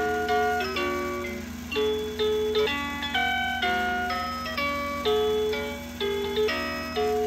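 A tinkling electronic melody plays from a motion-triggered Gemmy Disney Winnie the Pooh inflatable musical snow globe for Christmas. The simple chime-like tune is steady and fairly quiet, with nobody talking.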